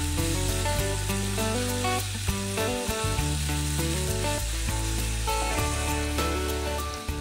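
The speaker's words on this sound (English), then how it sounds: "we're just going to let this pork brown on both sides for a few minutes before we add the prawns" Pork browning in a hot pan gives a steady sizzle and fry hiss, mostly buried under loud, continuous background music with a sustained bass line.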